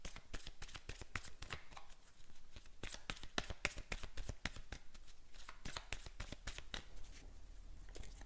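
Tarot cards being shuffled by hand, a dense run of crisp riffling flicks and slaps that continue steadily and close by, with no talking.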